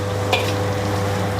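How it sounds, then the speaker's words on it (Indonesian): Vegetables and meatballs stir-fry in hot oil, a steady sizzle with a brief scrape of the spatula near the start, close and continuous under a low constant hum. "ini kita tumis dulu biar aroma dari baksonya juga keluar ya"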